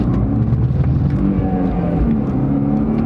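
A V6 vehicle pulls away from a stop sign under throttle, a steady loud engine drone with a rising tone held for a few seconds, close by and without talk.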